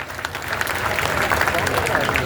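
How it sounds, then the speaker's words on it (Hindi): An audience at a Rajput Dussehra community gathering in Rajasthan claps loudly in dense, continuous applause, with crowd voices mixed into the steady roar. "तो ताली बजाओ जोरदार ढंग से एक बार"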